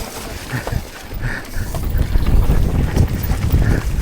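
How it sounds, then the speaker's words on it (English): Wind gusting on a mountain bike trail at Hemlock Trails in Nottingham, a loud continuous rushing buffet across the microphone with no clear voices. "The wind's coming in."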